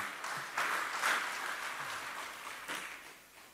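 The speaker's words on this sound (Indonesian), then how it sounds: "Tepuk tangan untuk beliau kembali." Audience applause at a formal Indonesian government ceremony with ministers and officials present, a soft, steady patter of clapping spread across a hall, fairly distant and even, swelling slightly in places without fading out.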